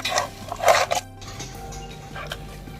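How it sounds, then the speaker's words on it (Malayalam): Chicken chukka masala being stirred and mixed in a pan, with a few clinking scrapes of a utensil against metal near the start, then quieter faint shuffling of the coated chicken. "നന്നായിട്ടൊന്ന് മിക്സ് ചെയ്ത് കൊടുക്കാം"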